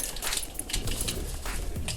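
Pigeons coo softly and repeatedly in a flock nearby, low murmuring calls over a light rustling background, with no talk.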